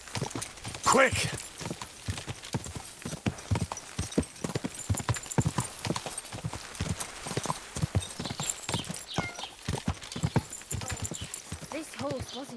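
Horse hooves clip-clop steadily on the ground in the medieval video game Kingdom Come: Deliverance 2, a close, rhythmic trot with faint voices and a brief whinny-like sound near the start.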